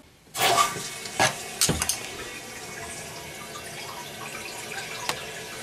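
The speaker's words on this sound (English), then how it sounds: "turn the water back on and just make sure that everything fills up and flushes properly" After a push button flush unit is fitted, water rushes into a toilet cistern, a sudden start followed by a steady refilling hiss with a few knocks and clicks, close by and with no speech.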